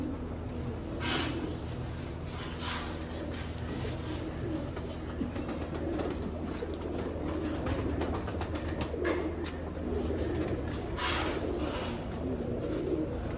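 VIP Sialkoti rooftop pigeons cooing steadily in soft, low repeated coos, with occasional brighter calls over constant background hum, no talking.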